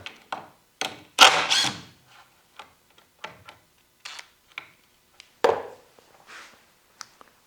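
Rear screws are taken out of a table saw setup: a string of irregular close clicks, taps and short metallic clatters, some sharp and loud, separated by brief silences.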